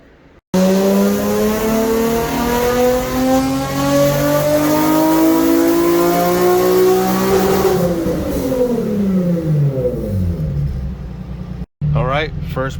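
A 2008 Infiniti G37 with a 5-speed automatic on a tuned acceleration pull, engine roaring loud and close as revs climb steadily through a long gear, then a shift and a brief cut near the end.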